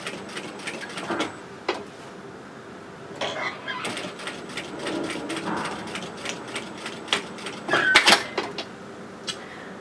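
A sewing machine runs in short bursts, stitching around the edge of a velcro piece on a fabric card wallet, with a fast mechanical whir and clicks of the needle and gears close up.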